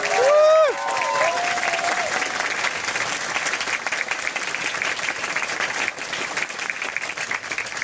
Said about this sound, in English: So one big round of applause for Cindy as well, please.